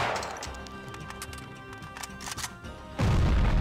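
A loud, booming blast from an enemy exploding in the shooter game Max Payne 2 erupts near the end, following a stretch of scattered game sounds and clatter.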